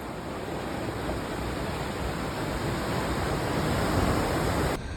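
Rough sea surf crashing at Cabo De Rama in Goa in December, a continuous loud broadband roar of breaking waves with a wind-like wash, steady and close the whole time with no voices.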